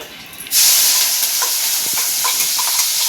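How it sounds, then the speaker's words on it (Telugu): Blended tomato puree pours into a hot pan for chicken majboos biryani, setting off a sudden loud, steady sizzle and hiss that keeps going with faint stirring scrapes. "ఇప్పుడు ఇదైతే వేసినాక దీంట్లోనైతే మనం మిక్సీకి వేసుకున్న టమాటా సూప్ ఉంది కదా, ఇదైతే వేసుకోవాలి"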